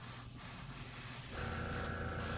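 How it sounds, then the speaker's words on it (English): A steady, close hiss of aerosol spray paint on a plastic Gundam model part, with faint rubbing underneath, and the tone shifts partway through as the spraying goes on. "I'm going to spray here a bit"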